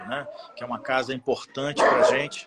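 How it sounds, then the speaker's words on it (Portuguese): A dog barks and yips in a house, several sharp barks close by that overlap someone speaking steadily throughout. "Desculpa o cachorro, essa confusão toda"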